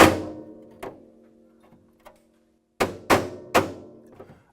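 Metal body panel of a Ford Mustang struck to knock loose a big section, several loud resonant thunks with ringing decay, one opening hit, a couple of lighter taps, then three hard blows in quick succession.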